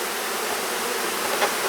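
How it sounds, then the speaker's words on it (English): Honey bees in an opened hive make a dense, continuous buzzing drone, close and even, with a brief louder swell near the end. "lots of bees in here"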